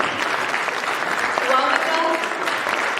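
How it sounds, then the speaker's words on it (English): Clapping from the crowd at a Balvikas children's cultural program, an even wash of applause with brief voices rising partway through. "please, clapping, please."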